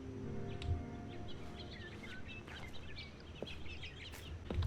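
Birds chirp and tweet in a nature scene within the video game The Stanley Parable: Ultra Deluxe, with scattered light calls over a steady low ambient hum and a distant outdoor wash.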